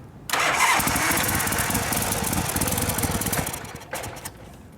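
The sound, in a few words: 1979 Harley-Davidson FXS Low Rider engine starting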